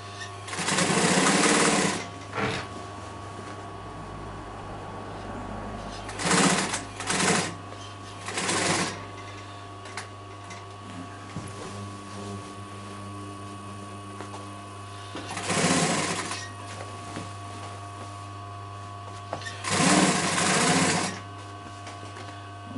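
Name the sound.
sewing machine stitching cushion piping seam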